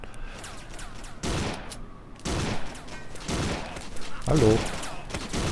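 Bursts of gunfire ring out during an ambush in the driving and shooting game Driver Parallel Lines. Three loud volleys arrive about a second apart, each a sustained rattle, while someone talks over the shooting.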